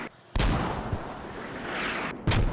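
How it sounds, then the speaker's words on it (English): A mortar round lands with a heavy boom in the military video game Squad, followed by a rumbling tail and a second impact near the end, loud and close. "Command, we are taking accurate mortar fire here on 5."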